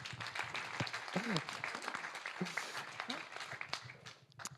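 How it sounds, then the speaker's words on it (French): An audience at a business evening event applauds a woman president, a fairly quiet but sustained patter of clapping with speech and voices running over it. "Sous vos applaudissements, parce que c'est une présidente."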